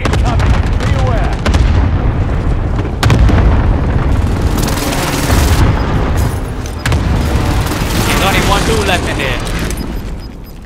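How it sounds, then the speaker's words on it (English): Airstrike explosions in Call of Duty: Modern Warfare, loud booming blasts and rumbling impacts layered densely over ten seconds, with gunfire and game voices mixed in. "Allied precision airstrike incoming"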